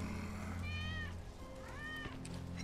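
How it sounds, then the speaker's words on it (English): A cat in the video game Final Fantasy VII Remake meows twice, short rising-falling cries over a steady low hum. "That's Wedge's cat."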